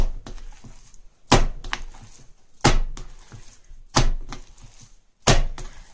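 Minced meat for homemade cutlets is slapped down into a bowl to beat it, four heavy, evenly spaced thuds about a second and a half apart, close and clear with quiet handling between.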